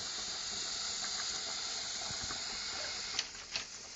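Garlic sizzles in hot oil with sausages for rougail saucisse, a steady close hiss that runs the whole time, with a few brief crackles and pops near the end; no voices.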